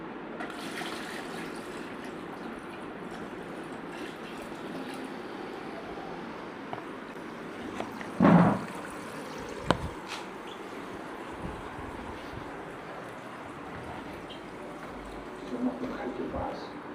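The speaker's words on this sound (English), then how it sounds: "Okay, now we have to pour in the water." Water pours into a new aquarium tank as a steady running gush, with a louder splash partway through and a few brief knocks, while a person talks quietly at times.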